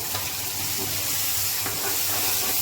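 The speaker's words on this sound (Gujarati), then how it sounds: "હવે આપણે તેમાં ગ્રેવી નાખી દઈશું." Gravy sizzles in a pan for gathiya shaak, a Gujarati spicy curry, producing a dense, steady hiss with soft stirring sounds underneath, close and even throughout.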